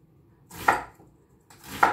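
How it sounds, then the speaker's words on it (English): An onion sliced with a knife on a board, two crisp cuts about a second apart, close and clear with nothing else heard. "slice the onion."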